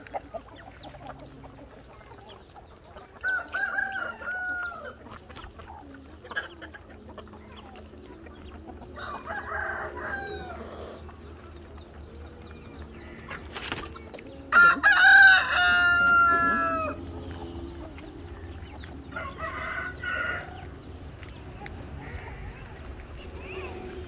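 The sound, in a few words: chickens clucking and a rooster crowing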